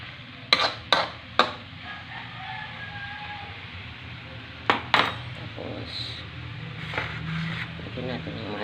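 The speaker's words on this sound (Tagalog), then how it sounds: "Halo-haloin lang natin konti para malo yung sauce." Sardines in sauce are stirred in a pan, with sharp metal scrapes and clanks of a utensil against the pan in two clusters, over a low background hum and faint voices.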